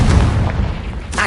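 A Confringo blasting spell explodes in a Harry Potter video game, giving a loud, deep boom with a rumbling tail, followed by a brief sharper burst near the end.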